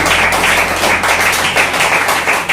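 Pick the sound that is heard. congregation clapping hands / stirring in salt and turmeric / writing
congregation clapping hands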